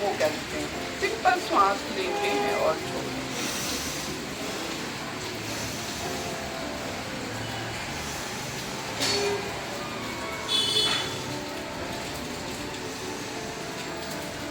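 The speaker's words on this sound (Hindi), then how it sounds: "आप लोग को शायद बैकग्राउंड में कुछ बारिश की आवाज़ आ रही है" Steady hiss of rain fills the background while a person speaks calmly over it.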